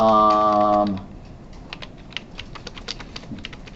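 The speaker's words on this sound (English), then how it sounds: "I'm going to take one of the keyboards from the front computer that nobody ever uses, and this one, Pete's keys get stuck" Keys clatter on a computer keyboard in a lecture classroom: a steady run of light, quick clicks follows a short voiced sound at the start, with a low room hum underneath.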